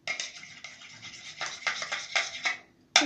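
Homemade slime being mixed by hand, a close, wet scraping and squishing with uneven strokes that run steadily for about three seconds, then one sharper scrape at the end.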